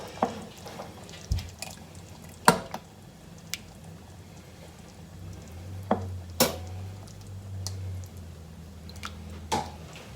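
Wild rocket saag is served out of a cooking pot in scattered bursts: a spoon clinks and scrapes against the metal, with wet, soft plops of thick greens between the knocks and no one speaking.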